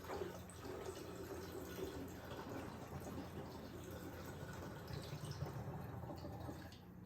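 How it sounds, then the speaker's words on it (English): Water pours steadily through a funnel into a BiOrb Earth 125 aquarium, a soft continuous trickle and splash at close range. "And we're gonna fill up with our handy little funnel thing."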